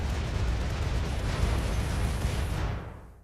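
Laser and plasma cannon fire in the Rimworld space combat mod Save Our Ship 2: a dense, continuous roar of blasts and booms that holds steady for about three seconds, then fades out.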